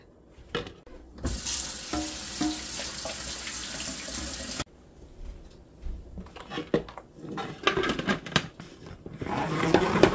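Fresh basil is rinsed under a running kitchen tap into a sink, water splashing and gurgling in uneven bursts with handling noises, near and moderately loud.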